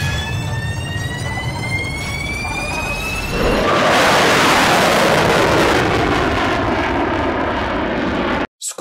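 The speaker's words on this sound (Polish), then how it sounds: "odpala swe silniki odrzutowe i podchodząc do startu niszczy cały plan zdjęciowy" A roaring jet-engine-style effect from the Polish film Wiedźmin (The Witcher) surges in partway through and swells to a loud, sustained, wide rush that drowns out a quieter earlier layer before cutting off abruptly near the end.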